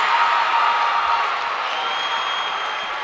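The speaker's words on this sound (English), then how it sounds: "When the crowd is this into it right now, John, it makes for a beautiful experience" A basketball crowd at a college men's game between Augusta and USC Aiken cheers and applauds after a made free throw, a broad, steady wash of clapping and crowd noise with faint voices.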